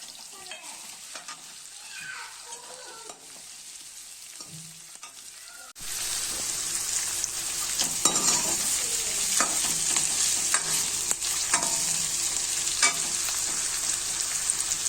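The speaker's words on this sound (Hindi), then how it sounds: "साथ में मैं हरी मिर्च जो है वो भी तलूंगी थोड़ी सी" Green chillies frying in a pan in a village kitchen in Rajasthan, a steady loud sizzle that jumps up suddenly partway through as they go into hot oil, with stirring scrapes and no talk.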